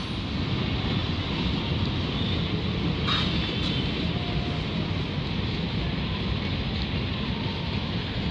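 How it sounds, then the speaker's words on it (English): A freight train rolling past, a loud continuous rumble and roar of wheels on track that holds steady throughout, with a short metallic squeal near the middle. "Finally, my first freight train."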